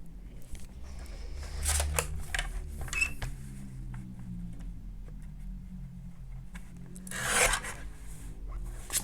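Blade cutting cardboard for a matchbox craft, close scraping and rasping strokes with small ticks and clicks, swelling in two louder bursts over a faint low hum.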